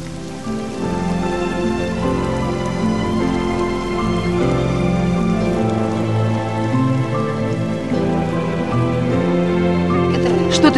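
Steady rain falls throughout, a dense continuous hiss with tonal background sounds layered over it.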